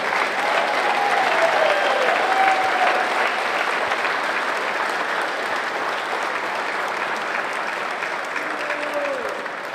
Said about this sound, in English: Put your hands together for the ladies senior softball singles champion Martina McMahon from Limerick.